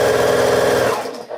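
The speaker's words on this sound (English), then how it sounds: "I love sewing the star blocks." A sewing machine runs steadily while stitching star quilt blocks, a loud, close, continuous motor whir that slows and cuts off near the end, followed by a short quiet pause.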